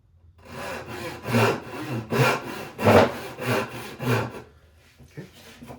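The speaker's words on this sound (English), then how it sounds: "I'm just going to lay my saw on the line and cut down to that marking gauge line" A hand saw cutting through scrap wood down to a marking gauge line, about six rhythmic rasping back-and-forth strokes close by, then a softer trailing stroke, with no talking.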